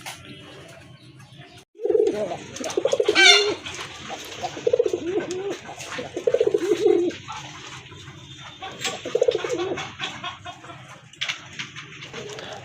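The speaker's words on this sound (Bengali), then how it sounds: "এখানে ছয় পিস কবুতর দেখতে পাচ্ছেন" Several desi pigeons, male birds, coo in repeated throaty bursts close by, loud and rhythmic over a quiet loft background, with a brief higher call partway through.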